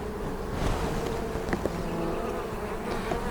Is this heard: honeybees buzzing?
yes